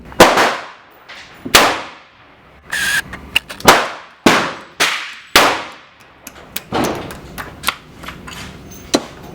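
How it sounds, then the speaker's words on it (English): .50 caliber Hornady lead ball rammed down the steel barrel of a Thompson Center Hawken muzzleloader with a ramrod: a series of sharp metallic clanks and strikes, close and loud, coming at irregular intervals with no talk. "Started the ball down the barrel, then rammed it a bit."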